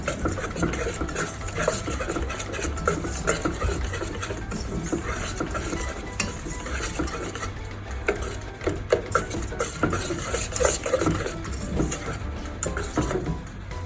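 Cake batter for a vanilla sponge cake being mixed in a bowl, a steady run of scraping, tapping stirring strokes that continue throughout at close range, with no talking.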